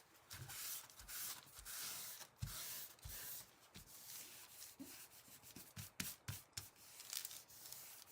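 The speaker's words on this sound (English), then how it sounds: "All right, I'm going back to scraping." A tool scrapes old glue from the binding of a vintage children's book with repeated short, dry rubbing strokes, faint and close, sometimes broken by soft taps.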